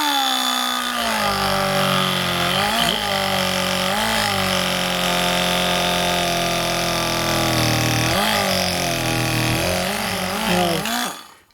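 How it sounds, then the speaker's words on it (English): A Parkside air-powered multi tool scraping wood gives a continuous loud pneumatic buzz with wavering pitch as the blade digs in and eases off, running steadily for about ten seconds before cutting out, with no talking. "let's try doing a bit of scraping"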